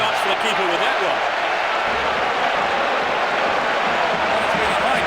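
Big football stadium crowd in a soccer video game roaring and clapping after a goal, a dense continuous wall of cheering and applause under commentary.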